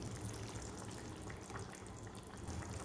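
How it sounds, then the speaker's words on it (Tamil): Water poured into a simmering hotel-style parotta salna gravy just after the ground paste goes in, a steady low, faint rush of liquid with soft bubbling and sizzle, no voices. "இப்போ நம்ம தண்ணி சேர்த்துக்கலாம்."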